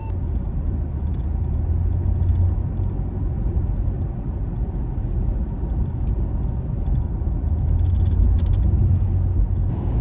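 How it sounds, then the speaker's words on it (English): Oncoming traffic on a divided highway: a loud, steady rumble of passing cars and heavier vehicles, continuous throughout with a slight swell near the end and no talking. "Here's a few clips from clocking oncoming traffic on a divided highway."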